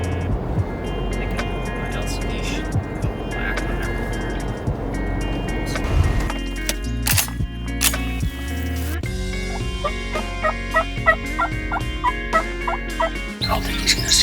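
Wild turkeys, several toms with hens, gobble repeatedly in the Wisconsin woods, with rapid rattling gobbles that rise and overlap. The calls are moderately near, and a low rumble of wind or engine noise runs underneath.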